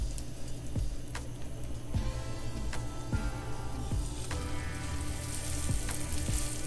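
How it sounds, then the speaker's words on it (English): Salmon croquettes sizzle steadily in hot flaxseed oil in a pan, a constant crackling hiss with a few soft taps as pieces are set down, and no voices. "Now we're going to add our croquettes to this hot oil"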